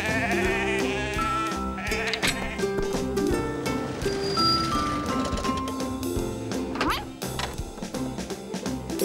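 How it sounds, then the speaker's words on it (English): Sheep being moved up to a hillside in an animated cartoon, with bleats mixed into busy music, clattering crashes and whacks throughout, loud and continuous. "We're moving the sheep up to the hillside."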